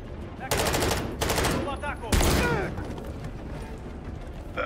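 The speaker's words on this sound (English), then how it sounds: "Oh, sentry gun." Automated sentry gun firing in Call of Duty: Modern Warfare III, two or three loud sustained bursts of rapid gunfire with pauses between, in a game environment.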